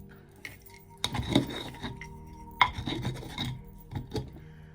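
Black pepper being stirred into a protection spell mixture, a series of scraping, rasping strokes in a bowl with occasional light clinks, close and fairly quiet with pauses between.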